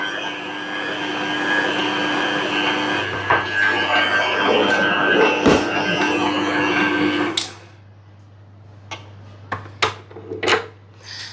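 An Agaro stand mixer kneads soft, loose naan dough with a steady, loud motor whir that runs for about seven seconds, then cuts off, leaving a few clinks and handling noises.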